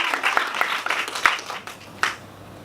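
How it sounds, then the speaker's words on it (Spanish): Audience applause during a public-speaking workshop, a modest, uneven patter of hands with a few sharper claps that thins out toward the end, fairly near and fading. "un aplauso."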